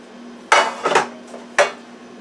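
Olive oil is spread around the bottom of a pan for cornbread, with a few sharp metallic clinks and scrapes of a utensil against the pan set apart by brief pauses.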